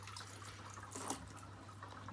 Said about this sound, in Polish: woda leci z taką szybkością